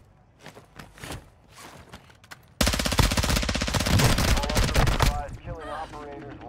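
Sustained machine gun fire erupts in a Call of Duty DMZ match, a dense rapid burst lasting a few seconds after quieter footsteps and scattered shots, with voices talking over the action.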